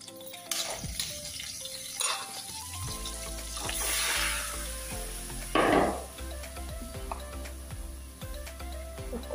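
Green chili and onion frying in a hot pan, a steady sizzle running throughout with occasional stirring clatters and a louder burst of hissing midway.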